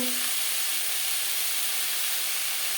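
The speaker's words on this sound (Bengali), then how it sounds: "হালকা করে ভেজে নেব" Fish lightly frying in an oil-filled pan gives a steady, close sizzling hiss that runs unbroken throughout with no talking.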